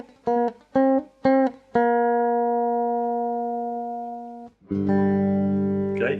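Slide blues lick on a 3-string cigar box guitar: three short plucked notes, then a long sustained ringing note that slowly fades, followed by a bright new strummed chord; close and clear.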